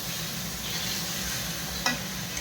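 Spices sauté with soybean curry, a steady close sizzle with a soft stirring scrape and one brief sharp clack of a spoon against the pan near the end.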